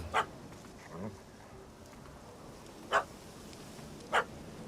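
Dog in The Witcher 3 video game barks a few times at a distance, short separate yaps spaced seconds apart over quiet outdoor ambience.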